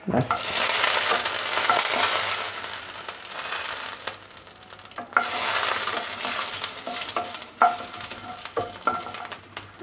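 Cardamom, cinnamon, two dried red chillies and panch phoron fry in hot oil, giving a loud hissing sizzle that fades and surges again, with repeated metallic taps and scrapes of stirring and no voices.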